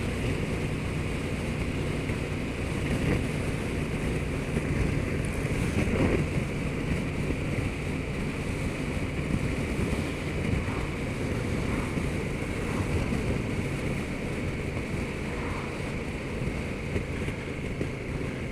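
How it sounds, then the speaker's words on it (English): Steady, loud wind blast roars across a rider on a 2020 KTM 1290 Super Duke GT motorcycle, a constant broadband rush with engine drone underneath and no talking. "there's quite a bit more wind blast on this bike than there is on my Triumph Explorer"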